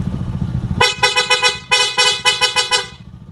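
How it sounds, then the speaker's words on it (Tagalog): Stock horn of a Yamaha Sniper MX 135 motorcycle at night, a short engine idle and then a string of loud, close, rhythmic honks in two bursts. "Testing naman natin yung kanyang busina. Stock horn,"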